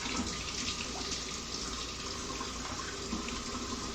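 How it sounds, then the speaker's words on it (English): Hot water running steadily from a kitchen tap, a constant soft rushing stream with no breaks or voices. "all we're going to get is just hot water from the tap"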